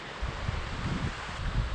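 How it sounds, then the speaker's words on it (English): Strong wind buffeting a microphone outdoors at a lakeside campsite, heard as uneven low rumbling gusts under a constant airy rush, close and fairly loud throughout. "Hopefully the audio's not messed up because it is really windy here."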